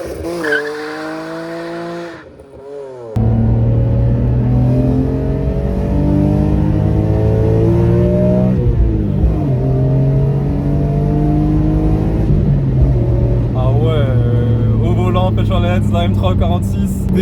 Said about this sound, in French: ce rugissement métallique bien propre à la E46